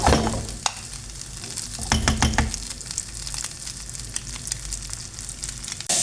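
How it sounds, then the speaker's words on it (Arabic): Onion and pepper frying in oil, a steady crackling sizzle broken by a few sharp stirring scrapes and clatters early on, close and moderately loud, with no voices. "راني نقلي فيه البصله، نقلي البصله مع الفلفله"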